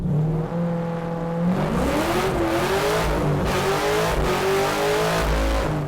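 A loud Nissan 240 with an LS engine revs and accelerates hard, its pitch climbing steadily through the gears, close and continuous with no voices.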